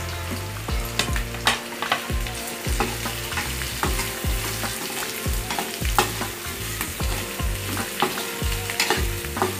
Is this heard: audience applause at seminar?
no